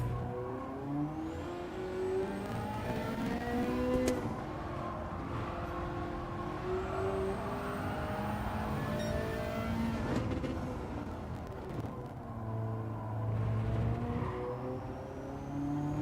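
Ferrari engine in a racing video game time trial at Interlagos, revving up and down through the gears with rising and falling whines and gear-change steps, steady and moderately loud, with no talk.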